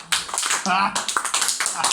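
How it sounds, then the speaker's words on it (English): An audience claps to welcome guests at a political event, a dense, close patter of hands under a voice speaking over it. "So hand clap maybe for political guests."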